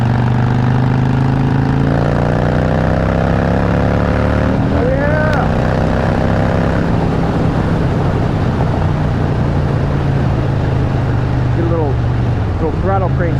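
A 2016 Harley-Davidson Fat Bob motorcycle engine rumbles loud and close, climbing through throttle revs and settling again, while a rider talks over the steady engine drone.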